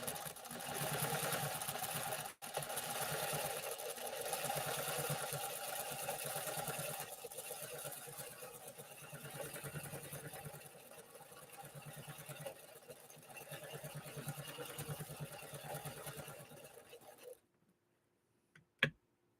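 A 1960 Pfaff 230 sewing machine stitches steadily with a fast, even mechanical whir and rhythmic needle chatter. It runs close and continuous for about seventeen seconds, then stops abruptly.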